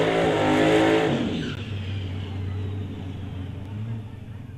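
A 1992 Ford Mustang drag racing car roars loudly at a drag strip after a burnout, then drops to a lower, rumbling engine note as it backs up, heard close throughout.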